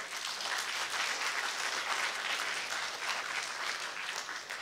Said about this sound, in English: Give a big round of applause to Yang Berbahagia Professor